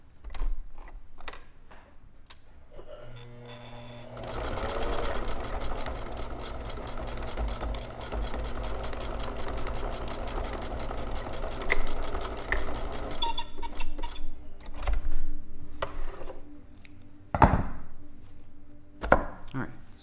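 A sewing machine stitches a fabric seam for a North Star quilt block in a steady, close, continuous mechanical run of about nine seconds, with lighter clicks and handling noises before and after.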